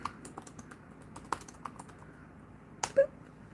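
Keys on a computer keyboard tap in scattered bursts, light clicks at close range in a quiet room, ending with a couple of firmer strokes and a short electronic boop.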